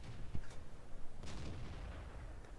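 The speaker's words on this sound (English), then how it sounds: "that shot just went right through the gun mantlet, I believe" A tank gun firing in World of Tanks, a dull low boom with a short crack, followed by a muffled rumble and a fainter distant thud, set against steady engine and battle noise.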